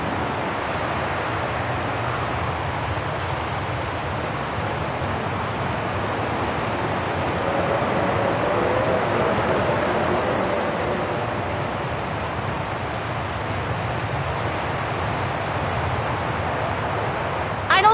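Steady storm wind and rain from Syberia: The World Before, a dense, unbroken rushing hiss that holds at an even, fairly loud level throughout, with no distinct gusts or drops standing out.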